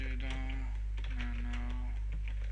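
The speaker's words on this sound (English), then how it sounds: "Then we're going to type in this to edit the file." Keys tapped on a computer keyboard while entering a Linux terminal command, a quiet run of soft clicks over a steady low electrical hum.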